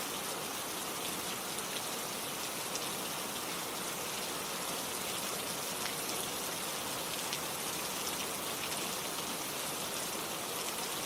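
Steady, dense rain falls without pause, a constant hiss of drops on surfaces with a trickling, stream-like wash, evenly loud throughout and with no voices.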